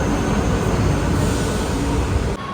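A metro train in Rome rolling along, a loud, steady, close rumble of wheels and carriage noise that cuts off abruptly near the end, with no talk.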